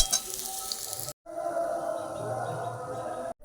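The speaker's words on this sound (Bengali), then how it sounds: "আলুগুলোকে একটু লাল লাল করে ভেজে নামিয়ে নেব" Potatoes frying in hot oil with a steady close sizzle and crackle, broken by two short gaps of silence.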